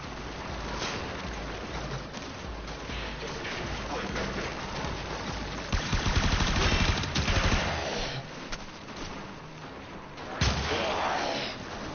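Dense enemy gunfire in a video game, sustained bursts and heavy volleys rattling throughout at close range, with louder surges midway and near the end, no talk.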